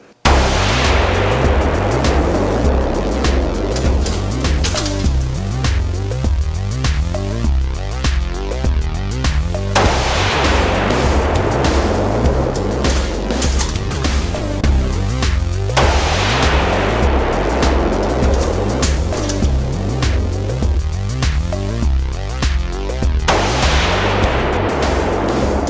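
A custom Italian precision rifle fires a series of loud, evenly spaced shots, each sharp report trailing into a long echoing decay outdoors, with no talking.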